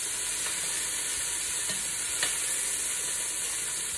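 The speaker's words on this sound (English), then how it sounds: "You're gonna get some nice browning in the pan." Beef pieces browning in a hot pan for stew, a constant dense sizzle and hiss with a brief crackle, close and uninterrupted, no voices.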